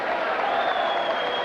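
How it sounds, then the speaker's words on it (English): A crowd at the 1991 Armed Forces Boxing Championships at Kelly Air Force Base gives a steady wash of applause at moderate distance, with a commentator talking over it. "a good hand from this crowd at Kelly Air Force Base"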